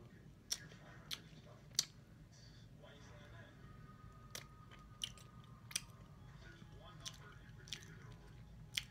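Someone munches a Chips Ahoy Cinnamon Donut cookie close up, sharp crunchy bites and clicks spaced irregularly over a steady low background hiss.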